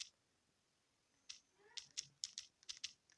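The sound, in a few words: typing subtitle text on a computer keyboard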